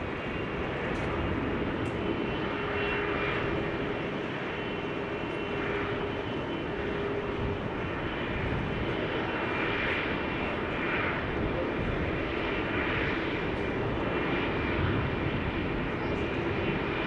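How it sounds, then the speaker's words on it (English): An Embraer 195 jet airliner takes off at Amsterdam Schiphol, a broad continuous roar that holds steady and loud throughout, heard from a distance without a break. "Regular Embraer 195 to Copenhagen, now taking off."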